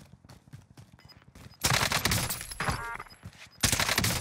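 Rapid bursts of automatic gunfire in a video game, loud close volleys after a quieter opening with soft game sounds.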